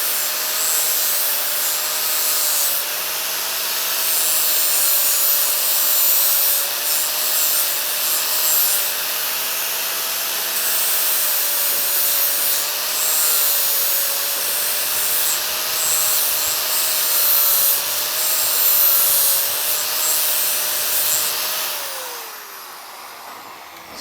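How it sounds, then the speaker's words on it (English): An angle grinder fitted with a worn-down flat disc deburrs a freshly cut pipe end for a 90-degree joint, giving a loud, steady abrasive whine that runs unbroken for over twenty seconds before winding down at the end. "you just want to deburr it with your worn down flat disc again and just get the shape"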